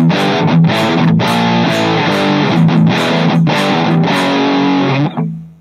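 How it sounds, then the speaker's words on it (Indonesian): Dry electric guitar run through a distortion stompbox pedal, thick gritty power chords struck in a rhythmic pattern with brief gaps, loud and upfront, ending in a fading ring. "Jadi distortion itu suara yang paling kotor ya."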